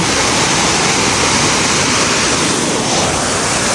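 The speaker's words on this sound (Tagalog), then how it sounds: "pupunta nga pala ako dito sa may waterfalls" Waterfall pouring over rocks, a loud constant broadband rush of water filling the whole span, close by with no voices.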